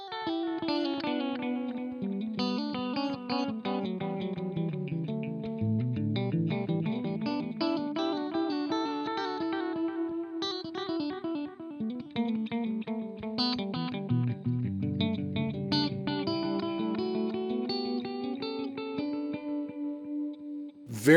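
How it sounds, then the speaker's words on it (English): Electric guitar played through a Carl Martin Red Repeat digital delay pedal with modulation on, sustained notes trailed by wavering, warbling tape-style echoes that keep repeating at a steady level. "it's a great sounding digital delay. It's when you kick in the modulation. And it starts to wow and flutter those echoes a little bit"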